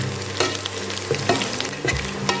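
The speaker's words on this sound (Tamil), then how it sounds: "இப்போ தான் இஞ்சி பூண்டு அரைவை போட்டுக்கணும்." Ginger garlic paste sautés in a pan for turkey berry biryani, giving a continuous loud sizzle broken by a few stirring scrapes.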